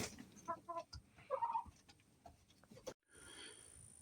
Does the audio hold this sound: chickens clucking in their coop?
yes